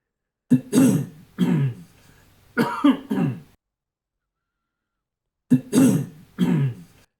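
Recorded coughs played back as a phone ringtone: four loud, distinct cough bursts, two together early, then two more after a pause, with no speech.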